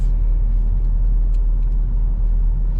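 A campervan travels along a road leaving Pelješac, Croatia, giving a steady, loud low engine and road rumble from inside the cabin with no pauses or voices.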